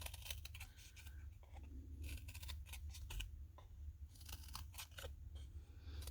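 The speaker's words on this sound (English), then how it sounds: "now I'm going to cut into the loom and stop about 1 inch away from the center" Scissors snip repeatedly into a friendship bracelet loom, a series of close, crisp cuts and crunches in a quiet setting with no talking.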